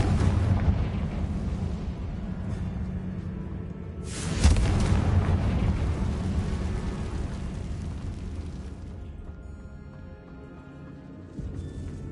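Confringo fire-blast spell from the Hogwarts Legacy video game going off in a tomb: a loud explosive burst around the middle over a continuous rumbling game soundscape, with a quieter thump near the end.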